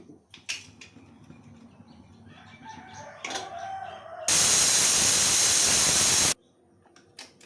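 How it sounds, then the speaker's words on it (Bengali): Pressure cooker whistle while ghugni boils, a loud hissing shriek lasting about two seconds that stands alone after some kitchen clatter and soft background noise. "আমার ঘুগনি সিটি হয়ে গেল।"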